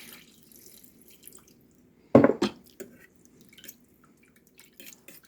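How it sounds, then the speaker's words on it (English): A cup of water poured into a 3-quart pressure cooker pot, heard as a brief splashing gush in the middle followed by a few small drips and splashes in an otherwise quiet kitchen. "now I'm going to add a cup of water"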